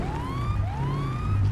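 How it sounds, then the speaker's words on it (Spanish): A police car siren in the GTA video game, rising wails repeating about twice over a low engine hum, loud and close, with no talking. "Ella escuchó la sirena."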